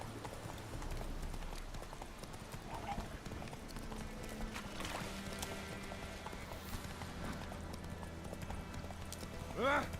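Horse hooves clip-clopping in The Witcher video game, a steady trotting rhythm over ambient game music and environmental sound, with a short vocal or whinny-like sound near the end.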